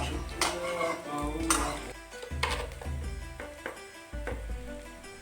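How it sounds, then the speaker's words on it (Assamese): Chopped jackfruit seeds frying in a wok with oil and a bay leaf, a steady sizzle broken by metal spatula scrapes and clinks against the pan, close and moderately loud, with no talking. "প্ৰথমে আমি কঁঠালৰ গুটিখিনি ভাজিম।"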